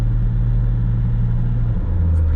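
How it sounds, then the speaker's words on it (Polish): A Nissan Patrol engine rated 400 HP with an 8HP70 automatic transmission runs steadily with a low, heavy rumble and a firm hum, rising slightly to high revs as the vehicle pulls away, close and loud. "Ruszamy, silnik idzie na wysokie obroty, samochód się rozpędza"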